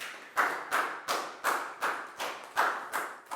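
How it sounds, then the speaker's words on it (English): A Year 4 maths class claps for a classmate in a slow, fairly unified rhythm, about nine distinct sharp group claps spaced evenly, each with a short decay. "High five and a big round of applause for Pangpon, please, guys."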